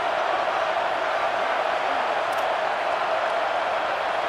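Fans in a packed Rutgers college football stadium roar without pause in a broad, loud, steady wall of cheering that drowns out any individual voice.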